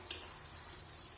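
Tap water left running to fill a bath indoors, a steady soft rushing hiss with faint splashy flickers, continuous and fairly quiet throughout.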